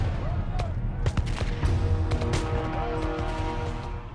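Musket volleys from Patriot militia firing on marching British Redcoats, scattered sharp reports cracking out one after another over a dense, rumbling background with a voice speaking throughout.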